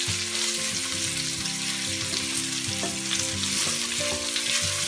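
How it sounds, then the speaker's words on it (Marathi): Salmon fish pieces coated in rice flour fry in a pan with a loud, continuous crackling sizzle. Bubbling pops and spits rise steadily through the whole stretch, close up with no voices. "फ्राय करून घेणार आहोत।"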